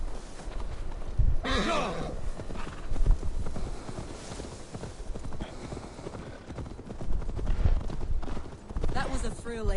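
Steady clip-clop of horse hooves in Assassin's Creed Valhalla, with a brief whinny and voices talking over the trotting rhythm.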